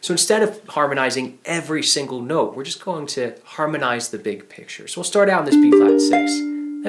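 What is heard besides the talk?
No everyday noises stand out.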